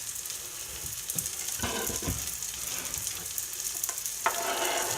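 Beaten eggs hitting a hot pan and frying into scrambled eggs, a continuous soft crackling sizzle with scattered light scrapes and clicks from stirring, fairly quiet and without talk.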